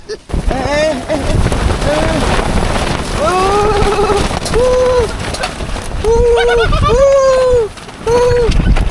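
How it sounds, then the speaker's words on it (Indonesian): Strong wind roars and buffets the microphone on a climb toward the summit of Mount Gamkonora, loud and continuous. People talk and exclaim over the gusts. "Ini kedahsyatan anginnya nih. Ini parah banget."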